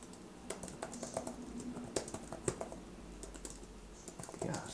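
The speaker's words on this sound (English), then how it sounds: "Boom, we just start typing." Typing on the keyboard cover of a Samsung Galaxy Tab S8 Ultra tablet: a steady run of soft, close key taps with an uneven rhythm, alone with no talking.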